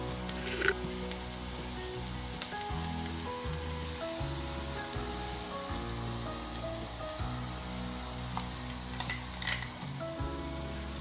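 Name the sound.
mango ginger frying in oil with mustard and dried chili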